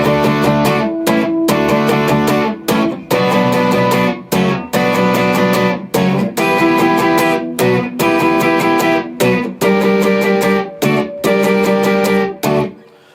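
An electric guitar, likely with distortion, plays the verse of a song in loud, choppy strummed chords, with short rhythmic breaks between the repeated stabs.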